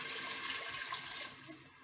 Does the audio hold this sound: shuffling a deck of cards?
no